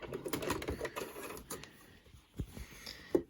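A sewing machine stitches a fabric face mask, sewing back and forth in short, quiet bursts of rapid mechanical clicking separated by brief pauses.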